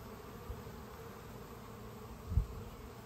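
Honeybees hum steadily around hives in a Colorado apiary, a soft continuous buzzing drone with a couple of brief low thumps.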